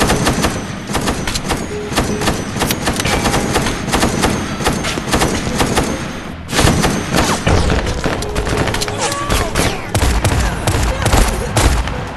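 Rapid bursts of gunfire from a VR shooting game, dense and loud, with heavy thumps and booms, running almost continuously with a brief break midway.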